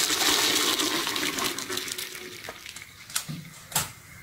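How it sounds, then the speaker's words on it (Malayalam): Cooked vermicelli and its hot water poured from a pot into a strainer, a loud steady rush of water at the start that thins out, followed by a few brief clinks and knocks of the pot and strainer. "നമുക്ക് സ്ട്രെയിനറിലോട്ട് സ്ട്രെയിൻ ചെയ്ത് ഒഴിക്കാം."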